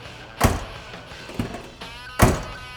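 Doors of a 1968 Chevrolet Chevelle SS 396 Convertible being shut, three solid thunks spaced about a second apart, close and loud against a quiet background.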